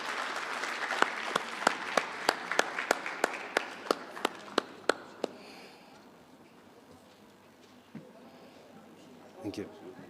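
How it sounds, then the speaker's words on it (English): A round of applause at the Pan African Mathematics Olympiad opens as a dense crowd wash, then thins into a dozen sharp, regular individual claps before fading into quiet room tone and a few faint sounds. "Please give them a round of applause."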